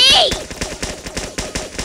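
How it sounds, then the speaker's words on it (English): A rapid series of sharp gunshot cracks in quick succession, steady and fairly close, like automatic fire in the Roblox game Outdig. "I hear gunshots everywhere."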